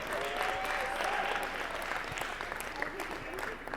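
An audience at a conference keynote claps steadily for a participant, a thick continuous patter of many hands, with faint voices mixed underneath.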